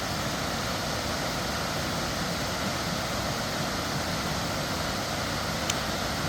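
A steady, full-bodied roar from Mill Shoals Falls in Rabun County, Georgia: water pours continuously with an even, hissing rush, close and constant, and no one speaks over it.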